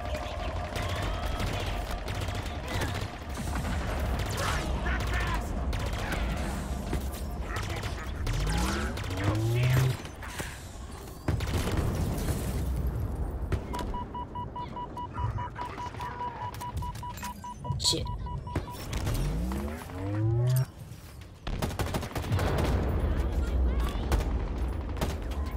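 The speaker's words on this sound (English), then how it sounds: "Why is there so many explosions?" Gunfire and explosions from a Halo Infinite firefight, with rapid bursts of shots and repeated booming blasts, a couple of them followed by descending whooshes, loud and continuous throughout with voices talking over the combat.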